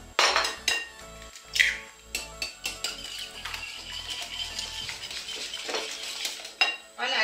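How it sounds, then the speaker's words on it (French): Three eggs beaten with a utensil in a bowl while oil heats nearby, a run of quick clinks and scraping strokes against the bowl, close and fairly loud, with brief pauses between bursts. "je vais battre 3 œufs ici à part"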